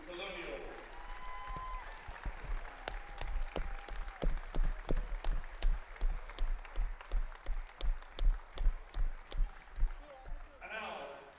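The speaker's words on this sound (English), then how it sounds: "A big round of applause for the PW Colonials." A crowd claps for a girls high school basketball team at a district finals ceremony, the applause settling into loud rhythmic, in-unison beats, with an announcer's voice at the start and end.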